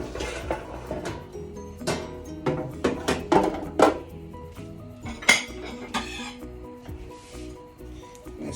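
Plates and cutlery clink and clatter on a kitchen plating station while eggs Benedict is assembled, with repeated close ceramic knocks and scrapes, some sharper clanks, and a steady low kitchen hum underneath.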